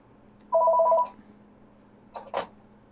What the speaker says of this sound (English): hold on while the phone's ringing here